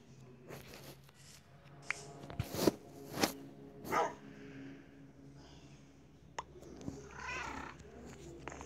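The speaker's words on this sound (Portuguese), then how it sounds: "De vocês, gatinho, quem não vai querer isso daqui?" Video-game cats meow and purr faintly across several seconds, with scattered short cries and soft rumbling, alongside clicks and light game noise.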